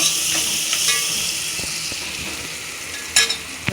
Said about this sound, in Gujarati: નાસ્તામાં જો સાંજે રોટલો પડે તો મસ્ત વઘારેલો રોટલો કરે છે.